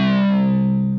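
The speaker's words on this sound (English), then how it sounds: "when you hear a sync sound" A Korg Multi/Poly synthesizer plays a single sustained note with oscillator sync, giving a bright, buzzy, harmonically rich tone that holds steady and loud for about a second.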